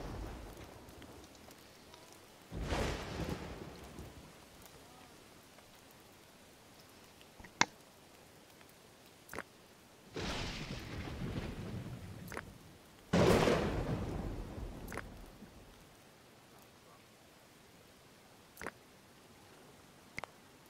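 Two rolling rumbles of thunder boom through a thunderstorm in the video game Dawn of Man, each swelling and fading over a couple of seconds, with sharp clicks and faint rain between them.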